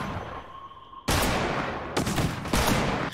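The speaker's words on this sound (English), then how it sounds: "I'm shooting you now." Gunfire in a Fortnite prop hunt match: after a quiet tonal lull, a loud burst of rapid shots erupts close up, followed by two more sharp volleys in quick succession.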